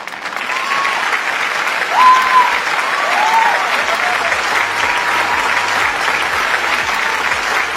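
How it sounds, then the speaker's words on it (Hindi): Loud, sustained applause from a large crowd at a Modicare event stage fills the room, dense clapping that swells briefly partway through, with faint voices beneath it. "लेकिन मैं तालियां बजवाना चाहूंगी अपने हस्बैंड के लिए।"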